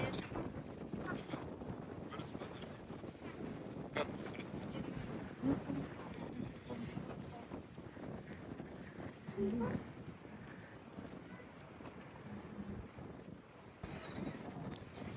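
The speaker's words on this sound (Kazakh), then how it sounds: "Жел болып тұр, көзді аша алмай жатырмыз." Strong wind at Burabay in Kazakhstan buffets the microphone in gusty rumbles, with people talking faintly beneath the roar.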